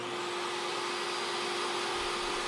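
A table saw rips a board with a dust collector running, a loud, dense, continuous roaring whine with a steady tone and no pauses.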